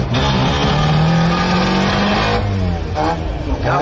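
A drag car launches hard down the drag strip at a Brisbane drag racing event, its engine roaring loud and continuous with a rising pitch and strong, steady volume throughout, with brief shifts in tone near the end.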